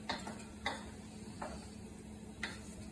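Mushrooms slowly cooking in a pan over a gas flame give a quiet, steady sizzle, broken by a few sharp taps or clicks at irregular moments.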